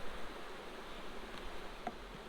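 Honeybees drone in a steady, close buzz as a farm hive is opened for inspection, with a soft bump near the end.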